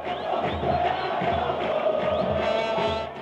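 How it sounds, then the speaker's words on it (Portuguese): A home stadium football crowd in Brazil cheers and roars continuously during a decisive match, with whistles and shouts rising over a dense, steady wall of noise. "A torcida estava junto com o time."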